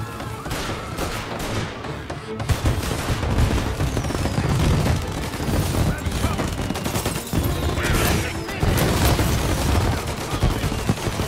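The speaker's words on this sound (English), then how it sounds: "And now for the fireworks" Fireworks exploding in the video game Mafia Definitive Edition, a dense run of sharp cracks and booms that keep coming in rapid, overlapping bursts across the whole stretch, loud and close.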